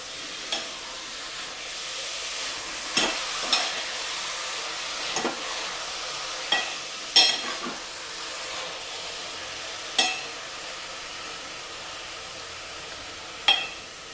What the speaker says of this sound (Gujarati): દૂધીના હલવાની અંદર સરસ મજાની ઘીની સ્મેલ ના આવે ત્યાં સુધી આપણે એને શેકતા રહેવાનું છે.